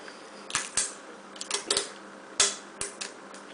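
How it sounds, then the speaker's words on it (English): Tape is pulled and pressed along the edges of a fabric clothing pattern, producing several sharp, brief tearing and crackling bursts at irregular intervals, close and fairly loud. "I'm going to keep taping"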